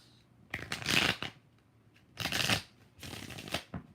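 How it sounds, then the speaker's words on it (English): Tarot cards being shuffled, three quick close riffling bursts separated by short pauses, with no talking. "3 shuffles."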